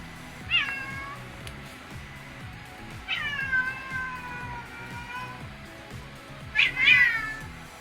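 Several cats meow at an outdoor cat feeder, with three distinct meows spread over a few seconds, one long and drawn out and the last a quick double. They sound close and moderately loud over a steady ticking background.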